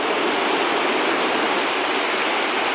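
Rough floodwater rushing past, a dense, steady roar of churning water, loud and close, with no break or other sound across the whole stretch.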